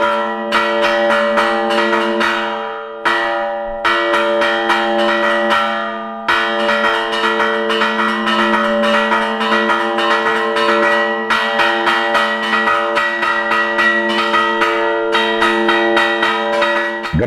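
Church bells ring at the bell museum of the Centro Etnográfico Joaquín Díaz in Urueña, loud and close, with rapid repeated strikes in rhythmic bursts, a brief pause near three seconds and long overlapping resonant tones.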